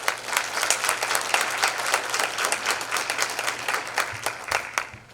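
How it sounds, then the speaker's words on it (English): An audience at a high school National Honor Society induction ceremony applauds steadily, a dense, even patter of many hands clapping at moderate distance, continuing throughout with no talking over it. "If we could please give them all a round of applause."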